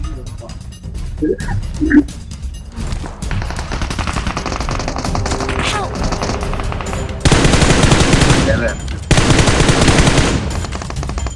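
Rapid automatic gunfire rattles through a PUBG Mobile match, with dense sustained bursts and scattered single shots, loud and close, while players talk over the action.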